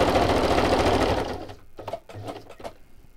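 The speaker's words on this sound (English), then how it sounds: "And I'm going to stitch right down." A sewing machine stitches down through a double book page in a fast, steady whirring run for about a second and a half, then stops, leaving a few quiet taps and handling sounds.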